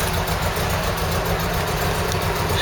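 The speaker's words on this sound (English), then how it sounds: "there's your tick over on your engine" Ford Cortina MK3 engine ticking over at idle, a steady low rumbling drone with an even pulsing rhythm, close and continuous with no voices.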